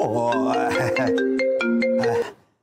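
A phone ringtone plays a bright, tonal electronic melody of stepping notes, loud and close, before cutting off abruptly near the end with no talk over it.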